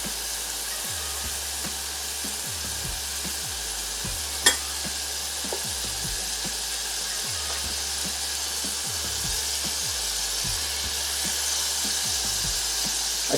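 Shrimp frying in curry sauce in a pan give a steady sizzle that runs from start to finish, with a soft stir or scrape every second or so and one sharp tap about a third of the way in.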